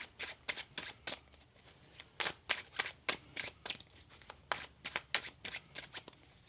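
A rapid series of crisp, papery riffles as a deck of tarot cards is shuffled close by, several bursts in quick succession with no talking.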